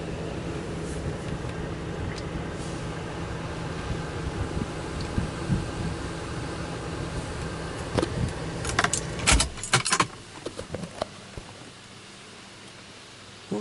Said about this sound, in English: Got our pre-soak going on now